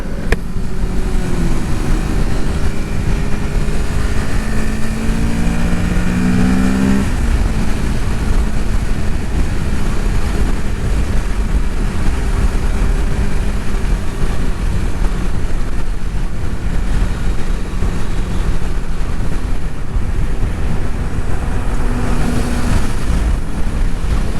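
Liter-class superbikes ride along a road, their engine drone rising and falling under a constant, heavy roar of wind buffeting the microphone throughout.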